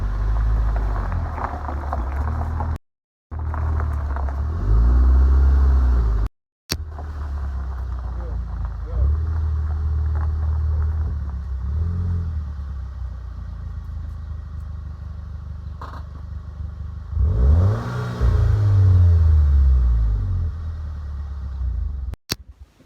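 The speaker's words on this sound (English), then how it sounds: "Right now, I'm on my way to my buddy Christian's house" Steady low engine rumble and road noise from inside a moving Mk6 GTI, with the pitch rising and falling as the car accelerates and shifts; a voice talks over the drive.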